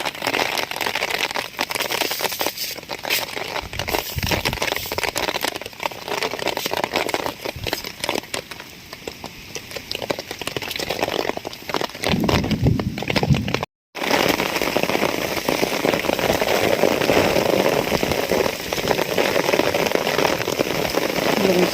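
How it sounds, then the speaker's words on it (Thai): Steady heavy rain pounding down with gusting wind, loud and continuous, with a brief dropout partway through. "ือไม่ยอมขึ้นนะโอ้ฝนตกแรงมาก ทั้งฝนทั้งลม"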